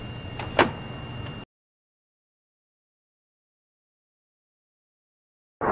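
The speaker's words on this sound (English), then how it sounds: "So the normal operation again would be someone outside the cabin would initiate closing the door." A sliding cabin door on an AW139 helicopter rolls shut with a short rumbling slide and a sharp thud as it closes, followed by silence and a brief burst of noise at the end.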